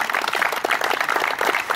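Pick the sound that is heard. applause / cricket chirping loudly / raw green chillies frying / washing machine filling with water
applause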